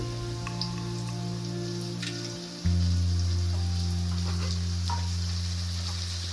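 Ginger paste frying in a pan for a spicy chicken gravy gives off a steady, close sizzle that grows a bit louder partway through and stays fairly even, with no talking.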